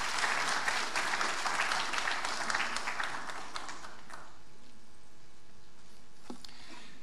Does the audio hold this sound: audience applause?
yes